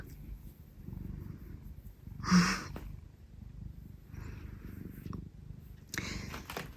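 A pet cat purring softly in a home, a low, steady rumble that runs quietly through the whole stretch, with one brief louder burst partway through.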